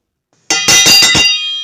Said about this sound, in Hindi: अरे घंटी बज गई